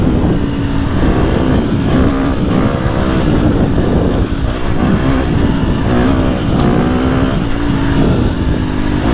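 A 2025 KTM 350XCF six-speed dirt bike is ridden off-road, its four-stroke engine a loud, close, continuous buzz that rises and falls as the throttle opens and eases, with steady revving and rough wind rumble throughout.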